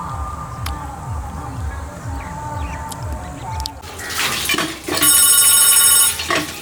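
A phone rings loudly with a warbling electronic tone, following a stretch of rhythmic dripping or squishy pulsing sounds.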